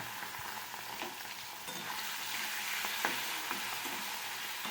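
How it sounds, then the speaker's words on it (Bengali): Prawns frying in very hot oil in a wok (kadai), a steady close crackling sizzle with small pops and occasional stirring clicks, no talking. "তেলটা খুব ভালো করে গরম হয়ে গেছে, চিংড়ি কটা দিয়ে দিচ্ছি"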